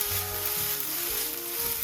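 Food sizzling steadily in a hot pan while cooking the filling for a vegetarian quiche, a loud, even hiss with no voices.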